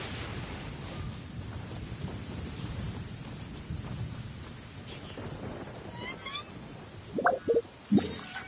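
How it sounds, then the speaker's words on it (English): Heavy rainstorm downpour in a PS4 game, a continuous wash of rain with low rolling thunder, followed near the end by a few short, sharp tonal sounds. "stroll in the middle of a downpour certainly rouses the spirit"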